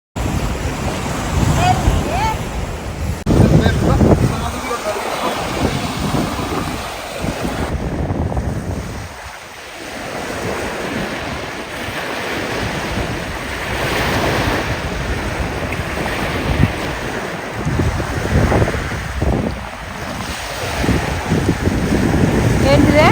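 Ocean waves break and wash in at a beach, a loud continuous surf roar with rising and falling surges and wind buffeting the microphone, while people talk briefly over it.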